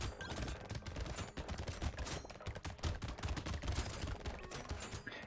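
Rapid SMG fire in the video game Brotato, a dense, unbroken stream of quick shots and hits at a steady fast rhythm, fairly quiet but continuous, with no talking.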